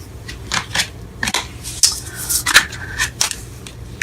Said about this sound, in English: Oh man, can't shuffle these.